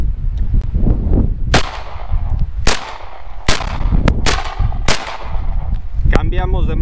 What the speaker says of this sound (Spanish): Vamos a dispararla 5 disparos ambas manos, luego cambiamos y 5 disparos a ver qué tal funciona